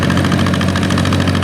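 A 1957 John Deere 320 tractor engine runs steadily at idle with a close, loud, even low throb and mechanical knock, no talk over it.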